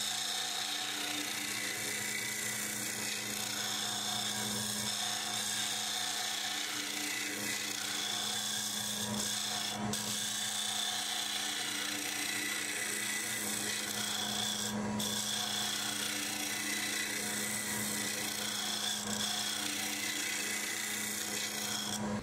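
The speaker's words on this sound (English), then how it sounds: "I'm just going to go back in with the Easy Wood Tools number one hollower, and I'm going to make the wall thickness as consistent down through it" A wood lathe spins a maple burl offcut while an Easy Wood Tools number one hollower cuts inside it, a steady, close scraping rasp over a low motor hum that runs without pause and without voices.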